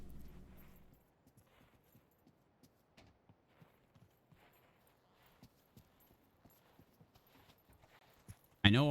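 Footsteps of a player moving through a match of the VR shooter Pavlov VR, a steady run of light, evenly spaced treads heard faintly under game ambience, ending with a sudden loud burst.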